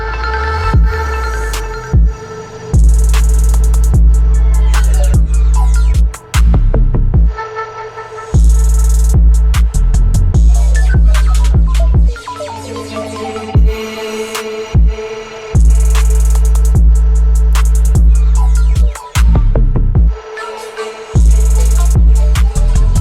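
A trap track moves out of its first drop into the breakdown, with heavy sub-bass, punchy drums and dense synth layers playing loud and continuous, briefly thinning at a few points, with no voices.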